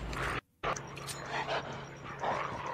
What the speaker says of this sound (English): These dogs biting me through the roof, bro.